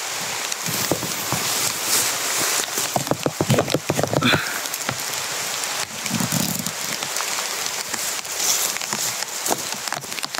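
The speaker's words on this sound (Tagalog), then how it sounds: "Umulan dito sa amin eh. Malakas yung ulan." Heavy rain pours steadily onto a surface, a dense continuous hiss with scattered sharper drips and thuds throughout.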